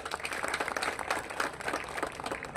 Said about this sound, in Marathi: यांच्याकरता टाळ्या वाजवा एकदा जरा